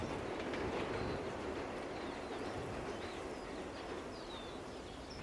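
A train rolls steadily along its rails, a continuous broad rumble and rattle held at even loudness throughout, with faint bird chirps or light squeaks drifting above it.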